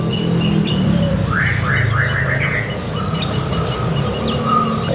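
Several small caged songbirds chirp and twitter in quick bursts at a bird market over a steady background rumble and murmur, fairly close, with calls overlapping.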